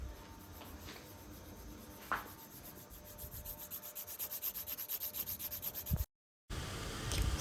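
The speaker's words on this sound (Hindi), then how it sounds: "अब हम लोग इंडेक्स फिंगर की बफिंग कर रहे हैं" A buffer rubs back and forth over an acrylic nail extension on an index finger in a salon, giving a fast rhythmic scratchy rasp that speeds into even strokes, broken by a brief pause before it resumes.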